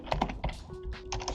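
Quick keystrokes on a computer keyboard tap out a short burst of typing, close and fairly quiet, with a faint tone running beneath part of it.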